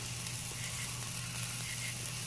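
A New York strip steak sizzles on a grill, a soft, steady hiss that stays even and close throughout.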